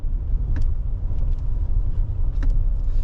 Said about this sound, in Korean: 지금 타보는 대로 운행하는 대로 시운전을 하고 있는데